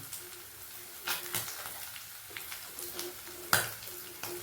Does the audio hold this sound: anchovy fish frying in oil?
yes